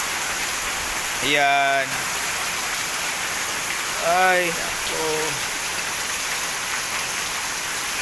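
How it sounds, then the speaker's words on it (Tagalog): Heavy morning rain in the Philippines pours steadily as a loud constant hiss, with a few short spoken words cutting in now and then. "Pero ang lakas ng ulan, grabe."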